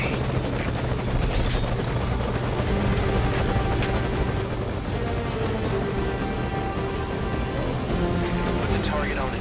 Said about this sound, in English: Put the target on the chopper.